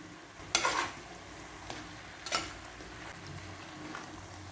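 A potato and eggplant stir-fry with curry leaves and coriander cooks in a pan: two sharp spatula scrapes stand out over a faint, low sizzle, with a lighter tap between them and no talking.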